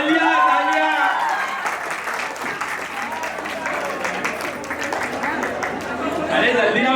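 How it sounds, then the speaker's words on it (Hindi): Guests at an engagement party clap in a sustained, dense patter for several seconds, with crowd chatter mixed underneath and a voice calling out over the noise. "तालियां तालियां।"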